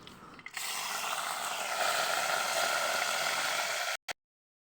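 Small peeled shallots hit hot oil in a clay pot and set off a sudden loud sizzle that stays dense and steady, then cuts off abruptly.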